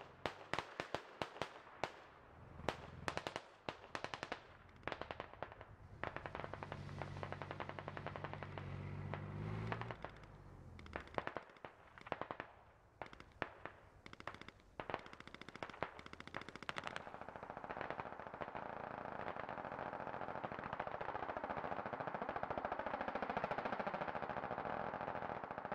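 Gunfire from the military shooter game Squad crackles in dense rapid bursts of automatic fire and single shots, loud and close at first, then thinning into a sustained distant roar with scattered shots.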